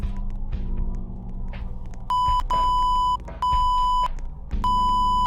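Morse code beeps in the Roblox game Identity Fraud: bright, steady electronic tones in long and short bursts with irregular gaps, playing over a low droning game background, loud and near.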